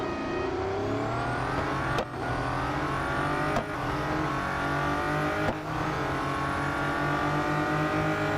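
In the Real Racing 3 video game, a Bugatti race car's engine accelerates with a loud, steady rising whine, broken by three brief dips where gears change.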